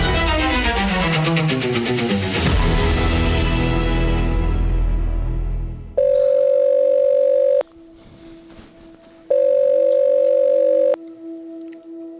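Ringback tones of an unanswered telephone call, two long steady electronic beeps with a quiet gap between, following a loud swell of dramatic music that fades out.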